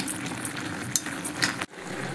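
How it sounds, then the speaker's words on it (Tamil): Radish stir-fry mixture bubbling and sizzling steadily in a pan on the stove, a continuous close hiss with a few faint utensil clinks and no talking. "நல்லா கொதி வந்துருச்சு"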